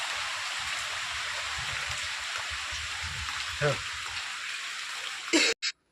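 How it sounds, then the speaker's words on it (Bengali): Heavy monsoon rain pours steadily outside a home as a continuous broadband hiss, fairly loud and constant, with speech faintly underneath; it cuts off abruptly near the end after a couple of short bursts. "কি মেঘ করেছে আর বৃষ্টিও চলে এসেছে ঝমাঝম"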